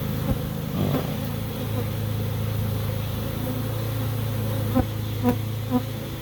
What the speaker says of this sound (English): The bees are walking in the front door.